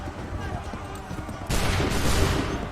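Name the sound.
musket volley gunfire in video game Assassin's Creed III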